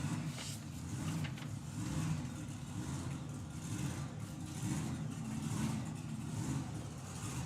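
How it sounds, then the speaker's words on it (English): A methanol-fuelled dragster engine fires up and runs with a steady, rough, throbbing drone that rises and falls slightly, heard at a moderate distance without any talking. "you can tell from that hunting sound, it's another alcohol engine, methanol engine"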